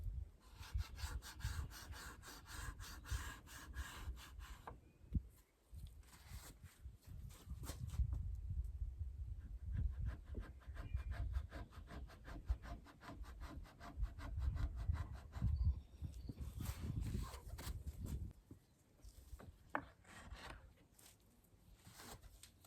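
An old wooden desk having its finish scraped and stripped off by hand, with long runs of steady, gritty scraping strokes, close and continuous, broken by a few brief pauses.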